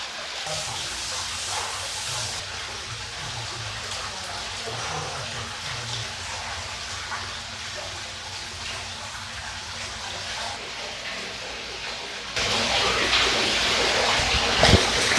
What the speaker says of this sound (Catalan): Començarem primer amb la dutxa aquesta per netejar totes les impureses del cos